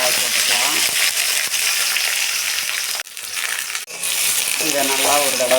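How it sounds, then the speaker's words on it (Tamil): Onions sautéing in oil with bay leaf, a loud, continuous sizzle and crackle, broken by brief stirring scrapes and short pauses. "இதை நல்லா ஒரு தடவை வதக்கி விடுங்க."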